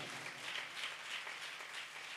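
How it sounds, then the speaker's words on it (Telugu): Audience applause at a Telugu church meeting: a steady, soft wash of many hands clapping together, distant and faint, continuing evenly without voices over it. "వాళ్ళు చప్పట్లు కొట్టి అభినందిద్దాం వాళ్ళని."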